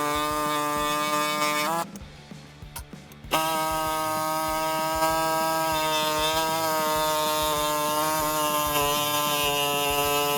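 Power drill boring a hole into the body of a Ford F150 pickup during a Roush active exhaust install, a loud steady whine that cuts out briefly, then resumes and runs on at constant pitch.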